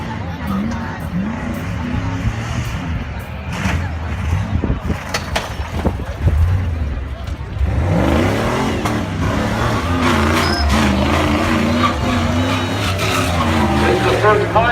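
A 1997 Jeep in a tough truck run skids and roars hard over dirt, engine revving and tires scrabbling continuously and loud, with crowd babble and an announcer talking underneath throughout.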